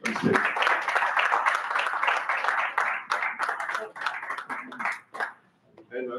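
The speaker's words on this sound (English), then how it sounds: "Please help me welcome to the huge round of applause, Toastmaster" A Toastmasters club meeting audience in Dubai applauds as a speaker is welcomed on stage, dense clapping that thins into scattered claps and fades near the end.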